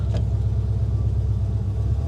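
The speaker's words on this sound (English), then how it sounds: "Oh, I love that engine sound." A 1971 Plymouth Barracuda convertible engine rumbles steadily nearby, a deep low idle-like drone with no pauses.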